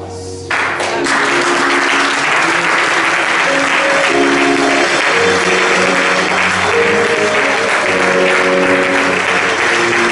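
A church congregation claps in sustained applause as an offering of acclamation during a service, a dense, loud wash of many hands that swells and holds for about ten seconds with no talking over it.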